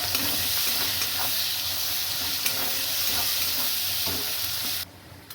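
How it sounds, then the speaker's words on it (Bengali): A large amount of onion, added after garlic, fries in a pan with a loud continuous sizzle and hiss, broken by a few stirring scrapes before the sound drops off abruptly near the end. "বেশ অনেকটা পেঁয়াজ দিয়ে দিলাম।"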